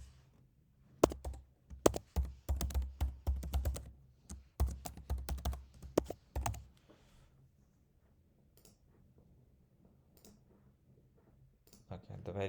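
Brisk typing of a user ID and password on a computer keyboard, a dense run of close, crisp keystrokes for several seconds, then quiet, with a few more clicks at the end.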